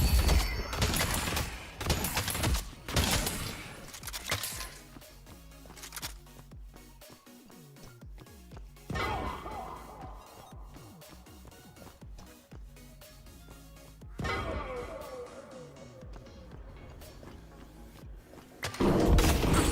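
Dense bursts of gunfire and booming impacts from the video game Deadlock come in loud clusters at the start and end, with a quieter stretch of game effects and rumbling in between, no voices heard.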